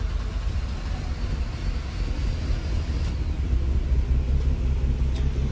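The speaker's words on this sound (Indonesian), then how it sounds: "Gua mau coba start engine-nya dulu ya." A 1990 Mercedes W124 300E automatic sedan engine gives a steady low rumble at moderate volume, running evenly with no voices over it.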